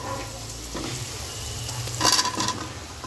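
Pumpkin is stirred into a dried lotte fish curry in a pan, giving a steady sizzle and frying hiss with a brief louder scrape and spatter near the end, and no talk.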